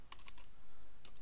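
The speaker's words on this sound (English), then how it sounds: "so I'll type here" Quick bursts of keystrokes on a computer keyboard while searching for a WordPress plugin, a few close taps at the start and another cluster near the end, heard alone.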